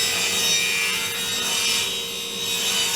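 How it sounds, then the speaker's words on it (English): A saw rips through pine wood, cutting 3-inch strips, a close, steady, rasping cut with bright gritty texture and slight surges in loudness. "Now I'm cutting some 3-inch strips of pine"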